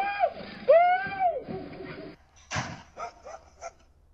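A dog barks and yelps sharply at a delivery driver, with a few separate bow-wows and a whimpering tone over a quiet background, fairly close.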